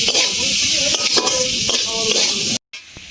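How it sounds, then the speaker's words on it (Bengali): Cut potatoes with salt and turmeric fry in a pan and are stirred, giving a steady close sizzle with repeated scraping strokes, a brief silence, then more stirring. "এই আলুটা ভালো করে ভেজে নেব নেড়ে চেড়ে।"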